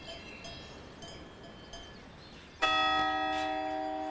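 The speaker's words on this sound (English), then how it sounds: "The movement of the cattle up to the higher slopes is a rite of spring, celebrated by decorating them with huge bells." Large bells hang on Swiss cattle moving up to higher spring pastures. A few faint clanks come first, then a loud, sustained ringing clang with rich overtones that slowly fades.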